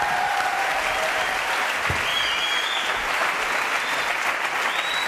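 A studio audience on a French television show gives a warm, continuous round of applause welcoming a guest, dense clapping held at an even level for about five seconds.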